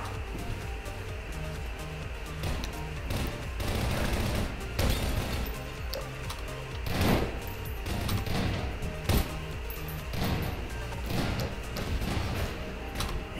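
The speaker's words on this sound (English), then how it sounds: "He's shooting everything." Bursts of gunfire in Garry's Mod Prop Hunt, repeated shots cracking through a busy, loud game soundscape in uneven clusters across the whole stretch.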